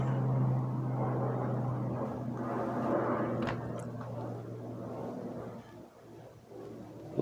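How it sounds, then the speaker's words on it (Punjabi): An airplane passes overhead outside the Air Force Museum in Christchurch, New Zealand, a broad, steady roar that slowly fades away toward the end. "ਉੱਤੋਂ ਦੀ ਵੀ ਜਹਾਜ਼ ਲੰਘ ਕੇ ਗਿਆ ਖੜਕਾ ਸੁਣਿਆ ਹੋਣਾ ਤੁਹਾਨੂੰ"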